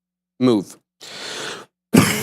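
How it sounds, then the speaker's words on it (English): A man coughs during a live trading stream, a short harsh burst followed by a breathy throat-clearing and a further forceful cough, close to the microphone with a brief spoken word between. "Still got a little bit of a holdover cough there."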